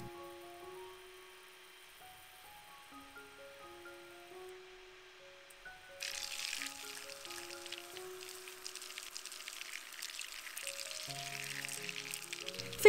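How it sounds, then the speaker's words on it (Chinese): Butter heats over medium flame while being stirred for browning; soft, gentle music plays at first, then a fine, steady sizzling and crackling rises halfway through and continues under the music. "以中火加热并不停搅拌"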